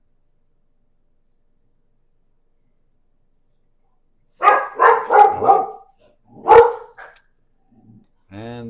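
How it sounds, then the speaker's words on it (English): Several dogs bark in a quick burst of loud yaps outdoors after a long silence, reacting to another dog passing the yard along the sidewalk; a man briefly exclaims and speaks near the end. "And the dogs are going crazy."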